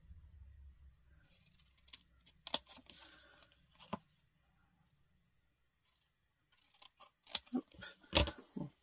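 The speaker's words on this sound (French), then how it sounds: "Maintenant, on peut couper." Scissors snip through paper while a scrapbooking envelope is being made: a few sharp, crisp cuts come in two clusters, separated by a quiet gap, close and fairly loud with no talking.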